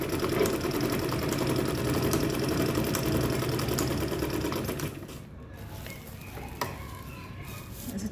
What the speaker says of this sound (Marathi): तर बघू शकता मी कशा प्रकारे शिवत आहे.